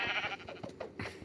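Sheep in the Minecraft video game bleat several times in quick succession, short wavering calls close and clear with no talking over them.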